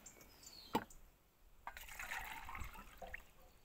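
Water poured into a can, a faint splash followed by a soft, uneven trickle and pour, quiet and close, with no talk.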